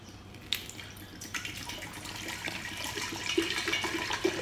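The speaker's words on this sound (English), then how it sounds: "You just pour it into this container" Synthetic vinegar at about 4 to 5% strength being poured into a container while descaling a Racold geyser coil at home, a steady close liquid splashing and trickling stream with faint clicks, no voices.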